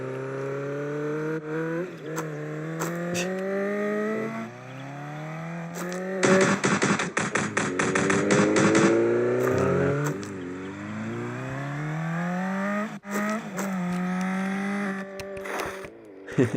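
Car driving in a homemade Scratch 3D video game, heard as a steady synthetic engine drone with rising and falling pitch, loud and continuous, with a busier, denser burst midway and a few sharp clicks.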